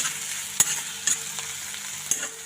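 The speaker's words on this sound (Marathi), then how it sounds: "ह्याला कांदा मस्त तळलेला आहे आणि कांदा असंच तळून घ्यायचा" Onion frying in oil in a pan for a bitter gourd chutney, a steady soft sizzle broken by a few sharp clicks of a spoon stirring, close and alone without talk.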